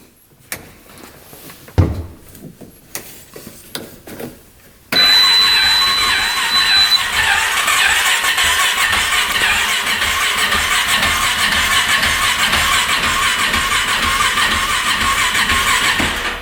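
A UTV said by the seller not to run is cranked over: a few scattered clicks and knocks, then a loud, steady, rapid churning from the starter that carries on without pause, with no voices.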